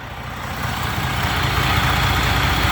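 A 2007 Freightliner truck with a rebuilt Detroit 14L EGR diesel engine idles in a backyard, making a loud, steady low rumble that builds slightly and holds without any talk.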